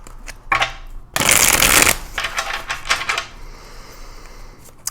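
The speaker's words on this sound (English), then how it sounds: "I'm going to do a quick shuffle here." Tarot cards being shuffled by hand at close range, a short soft riffle followed by a loud dense burst of flicking cards, then lighter taps and settling shuffles fading out.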